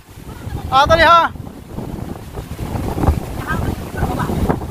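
Strong storm wind roars and buffets against the microphone in continuous gusts, with a brief voice heard near the start and faint talk underneath.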